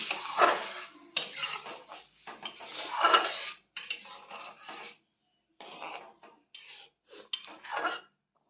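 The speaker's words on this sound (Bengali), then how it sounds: "এই ডালটা এবার দিয়ে দেবো, এই যে নেড়ে দিচ্ছে।" Dal being added to a pot and stirred with a metal spoon, giving loud bursts of scraping and clattering against the pot separated by short silent pauses.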